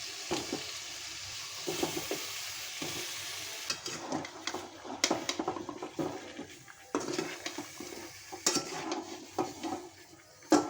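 Prawn and cucumber curry is stirred in a pot on a gas stove, with irregular scraping and clinking of a utensil against the pot over a soft, steady sizzle, heard up close.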